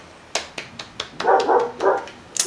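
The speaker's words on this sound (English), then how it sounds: "I hear dogs outside is the problem." Dogs barking outside, a series of sharp separate barks followed by a couple of longer, louder overlapping barks, heard alone and fairly clear.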